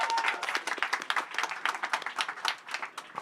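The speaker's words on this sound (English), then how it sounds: "Let's give her a round of applause." Audience applause at a commerce and brand panel event, a dense patter of many hands clapping steadily throughout, fairly close and full.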